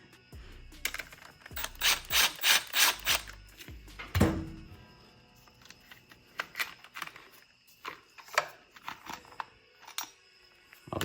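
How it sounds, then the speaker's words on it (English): A small Milwaukee power tool loosening clutch cover bolts on a Suzuki DRZ400 motorcycle, with several short bursts of whirring in a row, followed by metallic clicks and clunks of handled parts, close up, with no speech. "I'll get them all the way loose with this little Milwaukee."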